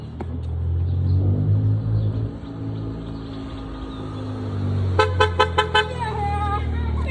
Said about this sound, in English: So we got our forte honk.